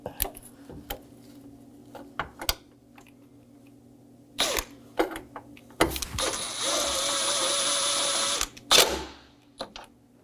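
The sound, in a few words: power tool driving 7mm bolts on a Chevrolet Equinox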